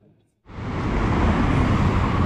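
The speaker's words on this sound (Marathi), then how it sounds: "आणि ही ट्रॅफिक ट्रॅफिक ट्रॅफिक ट्रॅफिक" Dense road traffic in Mumbai, a continuous broadband roar of cars, buses and trucks that starts abruptly after a brief quiet moment and holds steady and loud, close by.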